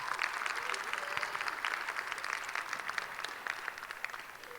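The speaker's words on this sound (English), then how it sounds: "let's still give them a round of applause as well" An audience at a school spoken word performance applauds, a steady, dense wash of clapping heard from within the crowd and lasting throughout.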